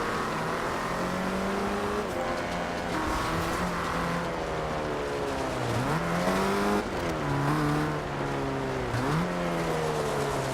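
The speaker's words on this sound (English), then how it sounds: "Sounds pretty good for a 4-cylinder from the 50s." A 1950s Italian four-cylinder racing car engine in Forza Horizon 2 revs continuously and loud, its pitch rising through the gears with several sharp drops at upshifts, alone with no talk.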